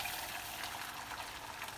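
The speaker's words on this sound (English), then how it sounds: "Siri's going to pour her eggs in there, and you'll hear it sizzle" Beaten eggs poured into a warm frying pan give a soft, steady sizzle and crackle, close and fairly quiet, lasting under two seconds with no talk.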